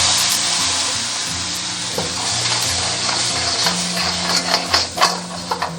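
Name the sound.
red crabs frying in oil in a wok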